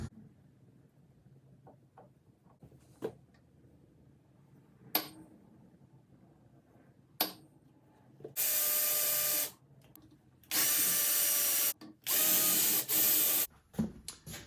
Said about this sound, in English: I'm gonna drill a hole up here